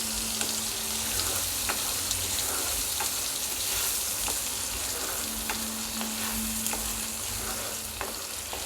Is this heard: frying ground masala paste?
yes